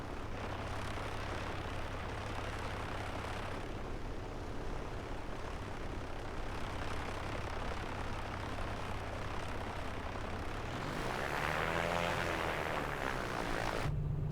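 A Piper Comanche propeller aircraft in Microsoft Flight Simulator takes off from the runway at New Braunfels, its engine a loud steady drone that rises in pitch near the end as power builds, with no talking.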